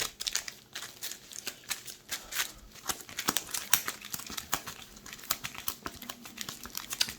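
A deck of Mage Knight board game cards is shuffled, producing a busy stream of soft papery riffles and crinkling slaps, close and fairly quiet with no voices.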